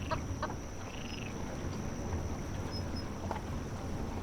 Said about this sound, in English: It was a ramshackle chicken coop with infrequent clucks emanating from within.